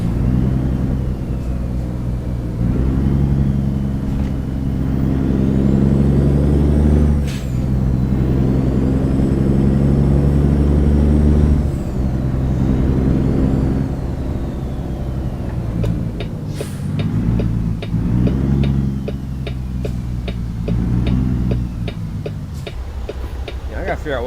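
Loud truck engine rumbling steadily from inside the cab, with air brake hisses and a gear-change dip partway through; a voice talks briefly over the drone near the end.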